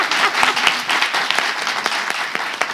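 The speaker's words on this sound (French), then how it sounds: "Applaudissez pour moi, s'il vous plaît" A studio audience applauds during a French televised debate, a dense, steady wash of clapping with a few sharper individual claps standing out, sustained at an even level throughout.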